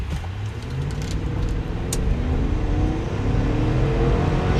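A 2024 Chevy Tahoe with a 5.3-liter V8 and 10-speed transmission accelerates hard in a 0-60 run. Its engine drones loud and steady from inside the cabin and climbs through gear changes.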